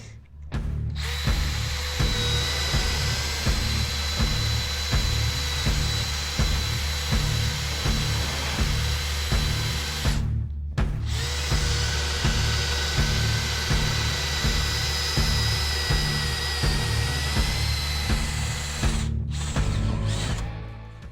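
A DEWALT cordless drill on a Power Stack battery, in drill mode on power setting 1, bores wood with a paddle bit, whirring steadily under load for a long stretch, pausing briefly twice before spinning up again, close and loud.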